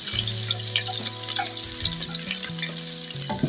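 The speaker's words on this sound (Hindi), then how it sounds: "सबसे पहले हम प्याज ब्राउन कर लेते हैं।" Sliced onions browning in about five spoons of oil in a kadai give off a steady, close sizzle and crackle, with occasional light clinks and no talking.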